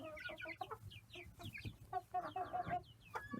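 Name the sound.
chickens clucking, buff Orpingtons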